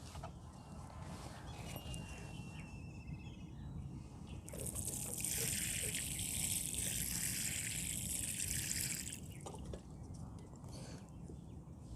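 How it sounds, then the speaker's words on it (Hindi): Water poured into a potted Ornithogalum bulb: a gushing, trickling stream swells over a few seconds in the middle, then fades back to quieter dribbles and background hiss. "तो चलें अभी इसको पानी दे देते हैं।"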